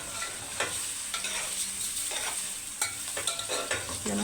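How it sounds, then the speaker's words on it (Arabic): Meat and onions frying in oil for a Saudi kabsa: a steady, close sizzle runs throughout, broken by sharp scrapes and clinks of stirring in the pan, with no voices. "زي ما نكون بنحمرها، زي ما نكون بنلوحها في الزيت او في السمنه"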